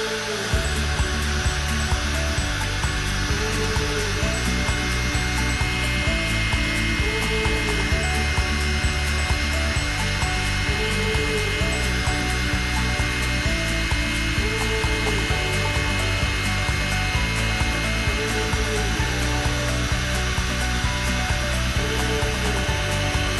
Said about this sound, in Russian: Для этого лучше использовать специальный фен для эмбоссинга.